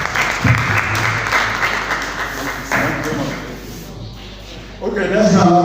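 Audience applause in a meeting hall, clapping mixed with close speech and a few thumps, fading near the end before a voice takes over.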